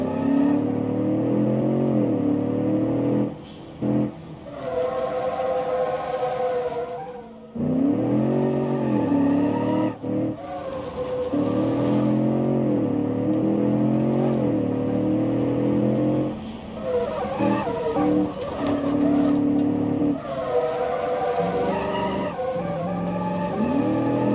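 A twin-turbo V8 car with poor suspension tuning driving hard in BeamNG, its loud, continuous engine drone rising and falling through revs, with brief dips between gear changes and occasional tire squeal.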